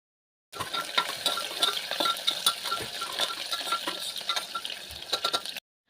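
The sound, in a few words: sautéing sliced onion with cumin and curry leaves in hot oil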